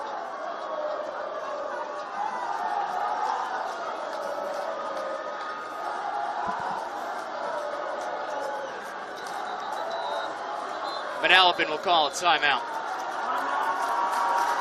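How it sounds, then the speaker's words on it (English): A home crowd at a South Brunswick high school football championship game against Manalapan roars and chatters steadily under a play-by-play commentator's voice, swelling with a burst of cheering and clapping near the end. "And listen to this crowd of South Brunswick."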